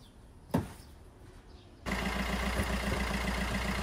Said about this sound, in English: I'm just going to leave the van run for a minute, charge up the battery on this